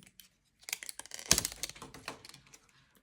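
A blade slicing through strong, durable strapping: a few quiet ticks, then one sharp snapping cut with a brief crackle, close by and with no talking.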